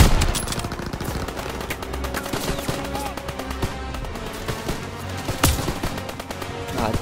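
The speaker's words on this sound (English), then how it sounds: "R98. Strong bolt action rifle." Dense gunfire from a World War II shooter game set on D-Day, with an R98 bolt action rifle among a constant barrage of loud, rapid shots and battle noise, no voices heard.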